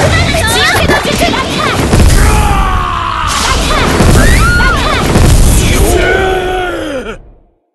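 Loud booming explosions and crashing blasts in the game Naruto Online Mobile, with shouting voices and groans over the rumbling impacts.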